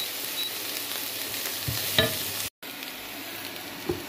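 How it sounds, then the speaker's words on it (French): Mixed vegetables sautéing in a pan, a steady close sizzle with occasional stirring scrapes and clicks and a momentary drop to silence midway, no voices. "Donc, je rajoute le mélange de mes légumes. Je fais revenir le tout"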